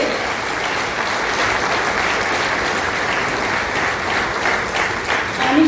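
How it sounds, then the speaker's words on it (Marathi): An audience at a ceremony honouring a Goan educationist's world records applauds in a steady, dense burst of clapping that holds evenly throughout, fairly loud and with no voices over it. "सो टाळ्या वाजल्याच पाहिजे"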